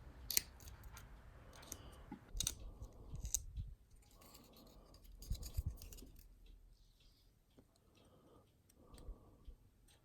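An X-Acto knife with a sharp new blade trims flash from plastic model rocket kit parts, giving faint close-up scraping and clicking cuts in irregular short bursts in a quiet room.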